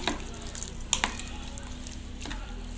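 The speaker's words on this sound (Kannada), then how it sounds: "ಶುಂಠಿ ಬೆಳ್ಳುಳ್ಳಿ ಪೇಸ್ಟು ಮತ್ತು 1 ಮೊಟ್ಟೆ. ಇಷ್ಟನ್ನು ಹಾಕ್ಕೊಂಡು ಚೆನ್ನಾಗಿ ಮಿಕ್ಸ್ ಮಾಡ್ಕೊಳ್ಳಿ ಇದನ್ನು." Chicken is mixed by hand with ginger garlic paste and an egg for Andhra-style chilli chicken, giving a short, steady wet squelching and stirring texture with a couple of soft clicks, close and fairly quiet.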